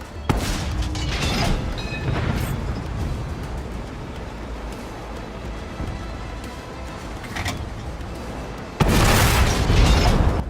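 Tank cannon fire and shell explosions rumble through a World of Tanks battle on Xbox, with dense crackling booms, a sharp blast near the start and another loud burst toward the end over a continuous battlefield roar.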